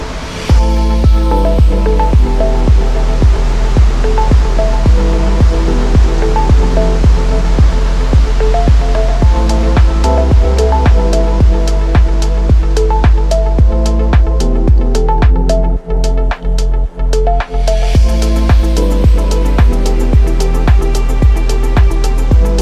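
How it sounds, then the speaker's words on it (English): Waterfall in Bali swollen and milky after heavy rain, a loud, steady close-up roar of rushing and splashing water that continues throughout without speech. "Pero okay na at least nakakita na natin yung waterfall."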